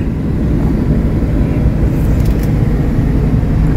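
A Suzuki APV car engine runs in a steady, unbroken low rumble that dominates throughout, with no talking.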